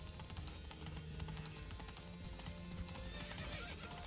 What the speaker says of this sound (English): Oh, my horse is almost out of stamina.